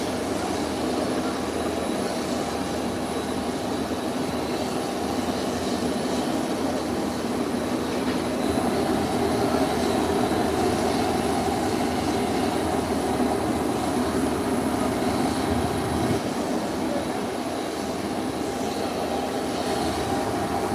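A commercial jet airliner taxiing toward the ramp gives off a steady, droning engine whine with a broad rushing hiss, continuous and moderately loud from some distance.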